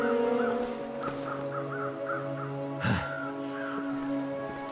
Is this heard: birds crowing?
yes